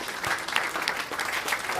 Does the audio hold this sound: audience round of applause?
yes